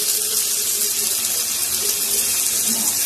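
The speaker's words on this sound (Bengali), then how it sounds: "সামান্য জল দিয়ে দেবো" Water poured into a pan of eggplant cooking with mustard and coriander, a steady close gushing splash lasting a few seconds, loud and alone.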